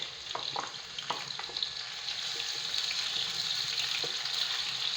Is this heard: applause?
no